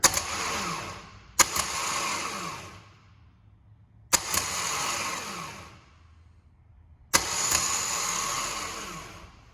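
A car starter motor run on a bench kicks in three times, each start a sharp click followed by a loud whirring spin that winds down and fades into near silence before the next.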